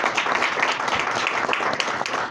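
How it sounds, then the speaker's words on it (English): A live audience claps steadily for the panel at a property investment Q&A session, a dense, continuous wash of applause at close range with no talk over it. "a big round of applause for the guys here"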